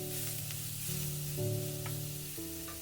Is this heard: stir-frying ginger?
yes